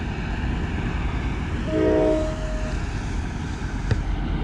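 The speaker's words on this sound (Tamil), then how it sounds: "இது வந்து அஸ்வானை நோக்கி போயிட்டுருக்கு இந்த ட்ரெயின்" A train running beside the Nile toward Aswan in Egypt, with a steady rumble of rolling carriages and a single horn blast rising briefly in the middle, moderately distant and heard without talk.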